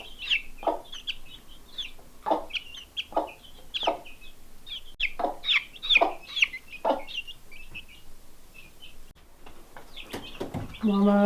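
Icelandic hens cluck in short repeated bursts at close range, with a few louder squawks and some background chatter from other birds.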